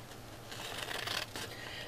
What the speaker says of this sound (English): I'm just going to cut with the scissor on that red line